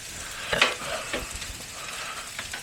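Sausages sizzle on a 17-inch Blackstone E-Series electric griddle, a close, steady frying hiss with a brief scrape of a spatula flipping them near the start.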